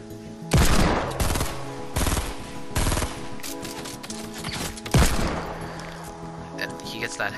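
Rapid automatic gunfire in a 20v20 shooter video game, loud close bursts of rattling shots with short pauses between them, mixed with a steady musical background.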